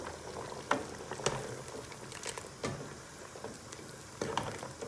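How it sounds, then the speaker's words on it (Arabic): Mushrooms sauté in butter or ghee in a pan where meat pieces were cooked, giving a soft continuous sizzle with occasional stirring scrapes and clinks, heard close and without talk. "شوحنا فيها الفطر"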